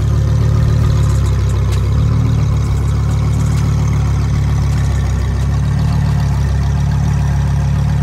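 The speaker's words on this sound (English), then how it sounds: "The Lamborghini V10," A Lamborghini Huracan STO V10 idles with a steady, deep rumble, holding a constant loud drone throughout without revving or talk.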